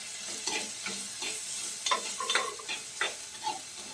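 Drumstick pieces and small onions being sautéed in a pan for a Kerala-style dry shrimp theeyal, with a soft, steady sizzle and light scraping stir strokes close by, no talking.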